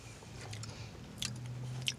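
Crisp bites and chewing of a Burger King Rodeo Crispy Chicken Sandwich, a crunchy fried chicken sandwich, heard close and fairly quiet, with a couple of sharp crunches standing out over soft mastication.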